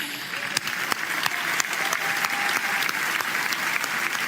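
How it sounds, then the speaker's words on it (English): Sustained audience applause fills a ceremony hall at the 2024 Ballon d'Or, steady dense clapping with a few sharper claps standing out, loud and continuous throughout. "We can applaud them, please."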